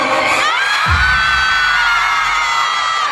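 Fans on the ground floor of a crowded multi-level meet and greet shout and cheer, a loud sustained roar of screaming voices with a thump near the start.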